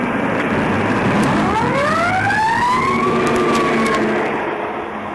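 An ambulance siren from a 1959 Georgian film wails loudly in steady rising and falling sweeps, nearby and filling the scene, then fading slightly at the end.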